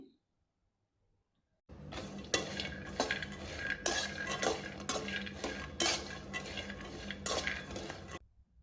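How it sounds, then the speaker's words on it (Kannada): Pistachios, about a hundred grams, roasting in a dry pan for a homemade dry fruits bar, stirred with a utensil that clinks and scrapes steadily against the metal, close and continuous after a brief silence at the start. "ಒಂದು ಹಂಡ್ರೆಡ್ ಗ್ರಾಮಷ್ಟು ಪಿಸ್ತಾ ಆ್ಯಡ್ ಮಾಡ್ಕೊತಿದ್ದೀನಿ ಅದನ್ನು ಕೂಡ ನಾನು ರೋಸ್ಟ್ ಮಾಡ್ಕೊತೀನಿ"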